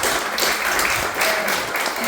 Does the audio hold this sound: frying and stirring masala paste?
no